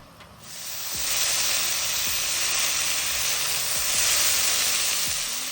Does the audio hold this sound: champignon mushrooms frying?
yes